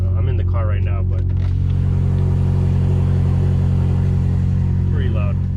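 A BMW M5 engine runs loudly from inside the car, a steady low drone that stays constant throughout while a person talks over it.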